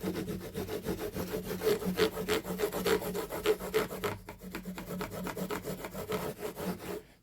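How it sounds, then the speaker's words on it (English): A scouring pad scrubs back and forth over the frets and sassafras fretboard of a Craig Williams all-blackheart guitar, producing steady, rhythmic rasping strokes, close and fairly loud, with no talking. "Now I can see the difference already in the frets just on using that scouring pad"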